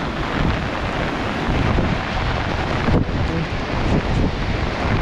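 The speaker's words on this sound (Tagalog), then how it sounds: "Sobrang lakas ng ilog." A loud, continuous roar of a flooded river rushing during a typhoon, broad and turbulent, with wind buffeting the microphone throughout.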